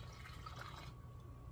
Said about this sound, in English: we're going to take this hot water and put it in there